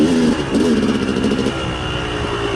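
A dirt bike engine revs loudly and close as the throttle opens, a continuous rough drone that eases slightly after the first surge.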